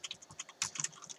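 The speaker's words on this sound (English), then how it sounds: "Now I'm typing" Rapid keystrokes on a computer keyboard during a music production and coding session, a quick irregular run of close, crisp clicks with one brief louder burst.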